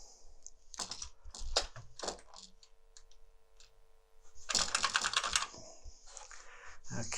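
Rapid typing on an Amiga 500 computer keyboard, clattering keystrokes in irregular bursts with a short lull, then a dense flurry of clicks, close and crisp.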